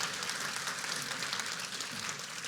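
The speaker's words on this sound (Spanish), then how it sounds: "Demos un aplauso al Señor." A church congregation applauds during a preaching service in Colombia, a dense, even wash of many hands clapping at moderate volume with no voices over it.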